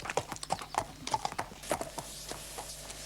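Horses walk back into the yard after exercise, their hooves clip-clopping in a steady, uneven rhythm of sharp knocks at close range, with a faint whinny and some background noise.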